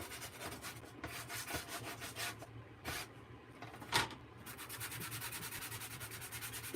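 Sandpaper rubs back and forth along the edge of a wooden sign, making a steady, soft, close scratching with a rhythmic stroke that carries on throughout, with no talking.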